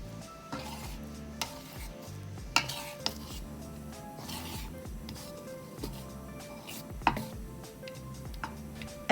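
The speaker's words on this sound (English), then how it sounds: "Drop your banana in and combine well." A spoon works banana pieces into a bowl of batter for Thai fried banana, producing soft wet stirring and occasional sharp clinks against the bowl, close and quiet.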